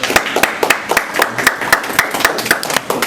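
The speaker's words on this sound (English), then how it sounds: "Can we give a big round of applause for our first-time guests?" Scattered hand claps from a small audience welcoming first-time guests at a religious gathering, quick and uneven, close and fairly loud, with no talking.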